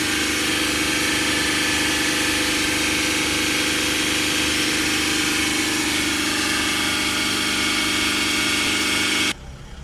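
A Mercedes GL350 3.0 V6 diesel with a soot-clogged particulate filter revs up in a loud, steady engine roar close by, then drops sharply back toward idle just before the end.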